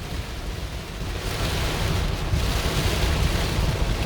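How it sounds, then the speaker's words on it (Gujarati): Heavy rain pours steadily on the main Jamnagar road near Ramgadh, between Ranavav and Bileshwar, a dense, continuous outdoor wash of noise with gusty wind rumble and no voices. "રામગઢના પાટિયા પાસે મેન જામનગર રોડ ઉપર બહુ વરસાદ પડે છે"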